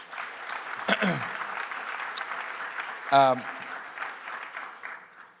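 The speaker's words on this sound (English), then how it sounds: "So I want to give Bob another round of applause for joining us." Applause for guest Bob Johnson at a fireside chat, a moderate ripple of clapping behind a speaking voice, with a couple of brief louder bursts.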